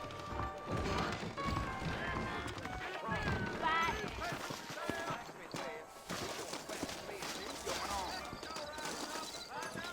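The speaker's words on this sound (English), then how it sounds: "I got the horses saddled up and ready out front." Horse hooves clip-clop in the Red Dead Redemption video game on Xbox One, a rhythmic trotting beat running under character dialogue and other game sounds.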